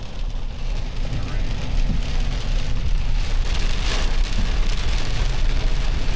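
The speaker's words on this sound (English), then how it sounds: "We made it into a nice rainstorm." A heavy rainstorm pours down during a road trip, a dense, steady wash of rain over a low rumbling of the moving vehicle, continuous and fairly loud throughout.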